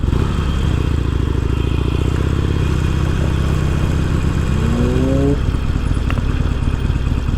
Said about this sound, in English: I guess I'm down here riding a motorcycle